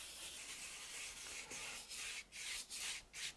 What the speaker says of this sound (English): Grinding it into the tooth of the canvas.